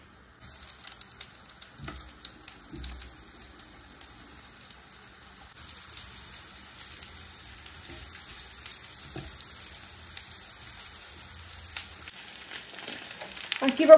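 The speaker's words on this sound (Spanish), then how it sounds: "Vamos a poner una cucharadita de aceite de coco para dorar las calabacitas" Zucchini browning in a spoonful of coconut oil in a pan, giving a faint, steady, fine sizzle that slowly grows louder, with a few soft knocks early on.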